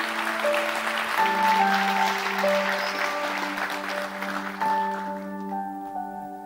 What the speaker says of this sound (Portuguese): Dê o melhor aplauso, você pode dar a Deus